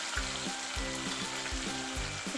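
Chopped tomato hits golden-brown fried onions in a pan for dal tadka, giving a steady close sizzle with a few soft stirring scrapes and no voices.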